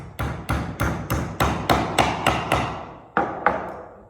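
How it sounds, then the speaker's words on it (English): A long nail is driven into a wooden toolbox with about ten sharp hammer strikes in steady rhythm. The blows land close and loud, with a short pause before the final few hits, and no one speaks. "you get another one of the long nails. And you pound it in place."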